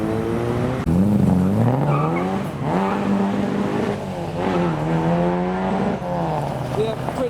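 Mark 1 Mazda MX-5 pulling away from a car show, an engine revving and rising in pitch through the gears, heard under people talking nearby.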